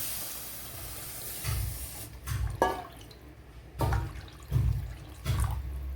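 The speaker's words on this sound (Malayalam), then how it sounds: "വേകുവാൻ ആവശ്യമായ വെള്ളം ചേർത്ത് കൊടുക്കാം." Water poured into a pan of simmering Kera Choora fish curry, arriving in several short splashing bursts separated by quieter sizzling gaps, close and moderately loud.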